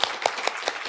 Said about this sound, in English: Please join me in giving her a warm